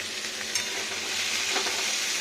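Potato and beetroot pieces frying in a pan, a dense, even sizzle close up with a couple of light stirring touches, no voices.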